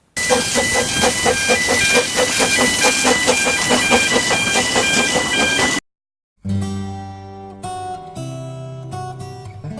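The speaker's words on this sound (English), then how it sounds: "Now they pull trains full of tourists." A small former slate quarry steam locomotive at Llanberis hauls a tourist train by a lake shore, chuffing in a fast, steady rhythm with loud hissing steam close by, before cutting off into silence.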